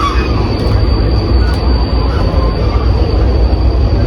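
A train rumbles past nearby in Laos, a loud steady roar of wheels on rails with a faint high-pitched squeal running through it.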